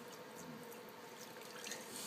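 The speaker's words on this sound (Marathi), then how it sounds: "टाक पटकन पिंकू, भराभर टाक ना बेटा पाणी." Water is poured over a baby during a first bath, a soft, steady trickle and splash heard faintly and close by with no one speaking.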